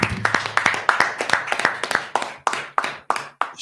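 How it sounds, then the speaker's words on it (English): A group claps together at an evening scripture and history class, sharp hand claps falling in a fairly steady rhythm, about three per second, loud and close, with some low background hum and faint talk. "Let's clap it up."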